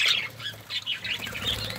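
Parakeets kept in a cage colony let out harsh, repeated squawks and shrill calls in short bursts, with some brief wing flutter, nearby and fairly clear, no talking.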